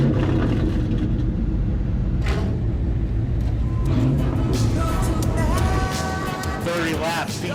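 Crown Victoria race cars rumble loudly and steadily at a weekly short-track racing event, engines droning together close by with a rising rev toward the end.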